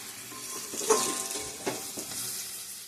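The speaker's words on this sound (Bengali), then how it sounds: "গুড়টা দিয়ে ভালো করে নাড়িয়ে নেব।" Jaggery being stirred into a cooking olive pickle in a pan, a soft bubbling sizzle with a few light scrapes and taps of a spoon, fairly quiet and close, with no talk.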